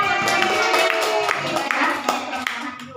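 Workshop participants clap together in a brief burst of close, uneven hand claps with a room full of voices chattering underneath.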